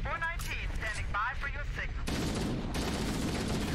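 Gunfire in Halo: Combat Evolved Anniversary, a burst of rapid automatic shots rattling loudly in the second half after an opening stretch of voices and electronic game sounds.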